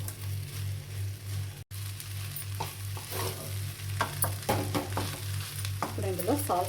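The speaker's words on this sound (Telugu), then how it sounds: "అందుకే అంతా ఇలా వేసి స్టవ్ వెలిగించుకొని వేడి చేసుకుంటూ కలుపుకోవాలి." Mango pulihora rice being stirred and mixed in a pan over a lit stove, with soft scraping and stirring clatter growing busier toward the end over a steady low hum and faint sizzling.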